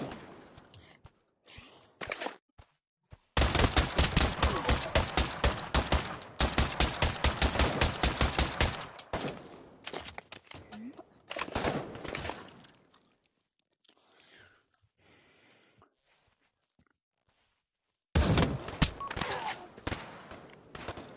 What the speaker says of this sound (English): He's shooting long range. He's shooting long range.